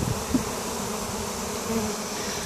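Dense, steady buzzing of many honeybees being shaken off a frame onto a queen excluder, close and continuous, with occasional louder individual bees passing nearby.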